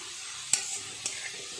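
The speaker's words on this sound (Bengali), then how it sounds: "আর একটু সময় লাগবে ভাজা হতে।" Shredded potatoes deep frying in hot oil for crisp jhuri aloo bhaja, a steady soft sizzle with a couple of brief sharper crackles, close and alone without talk.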